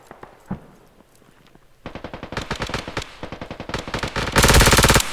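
Rapid automatic gunfire in a Squad match starts after a quiet moment, building into long, loud rattling bursts of many close shots that grow denser toward the end, with no talk.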